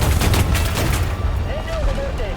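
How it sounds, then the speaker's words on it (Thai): Gunfire striking a tank in War Thunder, a loud burst of rapid shots and impacts rattling close by, with a faint whistling tone near the end. "มีคนยิงเราครับ"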